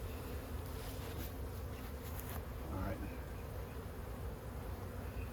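A dense, steady buzz of many honey bees swarming nearby during a swarm cutout from an owl house, continuous throughout, with someone briefly speaking underneath.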